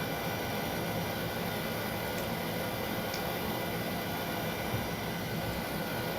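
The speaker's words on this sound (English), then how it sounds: "Okay, starting engine 3." Boeing 727 freighter engine spooling up in a flight simulator, a steady broadband roar and hiss that stays even and loud throughout with no distinct onset.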